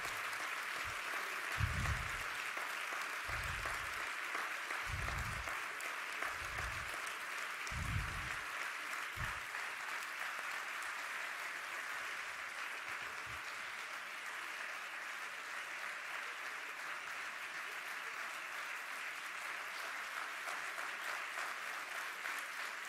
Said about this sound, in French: Je vous remercie de l'applaudir très fort.